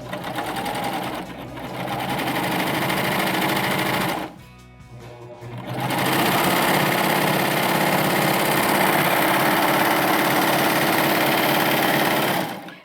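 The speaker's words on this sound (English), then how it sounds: "With my triple cover stitch, not only can I go through all layers of fabric" Baby Lock Euphoria serger running a triple cover stitch through stretch fabric layers: a steady, close, fast mechanical whir with a short pause around the middle before stitching resumes at full speed.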